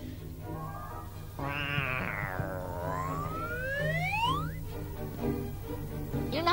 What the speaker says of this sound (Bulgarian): О, моля те, котке.